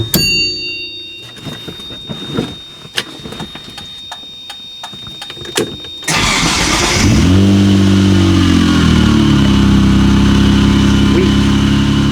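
A Mitsubishi 3000GT VR4 engine cranks and fires up on the old ignition key, a door chime dinging beforehand, then settles into a loud, steady idle close by with a brief rev as it catches.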